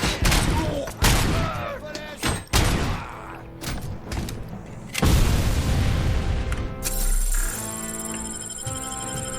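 Gunfire and gas grenade blasts fill a firefight in the video game Robocop Rogue City, with repeated loud booms and bursts of shots, and a voice talks between them.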